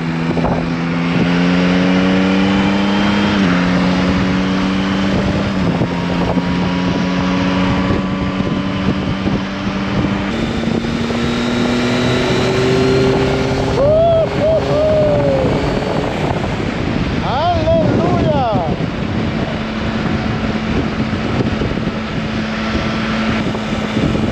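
A Yamaha Tracer 9 GT motorcycle ridden at an easy pace: a steady engine drone whose pitch climbs and drops in steps through gear changes, under constant rushing wind noise, with no talk.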